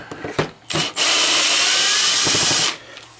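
A Ryobi cordless power drill driving screws: a couple of short bursts, then a sustained high whine for about two seconds that cuts off, close and loud with no speech.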